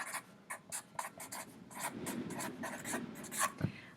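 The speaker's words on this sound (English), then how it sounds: "on a blank piece of paper directly on your binder, I'm going to ask you to write the course name." Pen writing on a blank sheet of paper resting directly on a binder, a close, steady scratchy stroking in short bursts and longer runs, alone with no talking.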